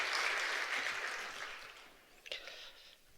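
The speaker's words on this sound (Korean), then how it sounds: "나오실 때 우리 큰 박수로 환영하겠습니다." A Korean church congregation at Baegot Somang Church gives a guest pastor a warm welcome with a broad wash of applause that starts full and steadily fades, ending with a single sharp knock as it dies away.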